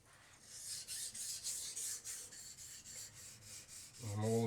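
A kitchen knife is sharpened and thinned on a whetstone in about a dozen quiet, steady back-and-forth rasping strokes, with a voice starting to speak right at the end.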